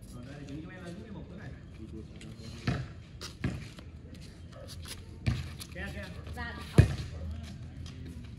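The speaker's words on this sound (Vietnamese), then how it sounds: "Đập bóng tốt của cầu thủ 1m62." Volleyball spikes in a match where a 1.62 m player faces two taller 1.82 m opponents: a few sharp, punchy ball strikes ring out at irregular intervals over steady commentary and crowd chatter.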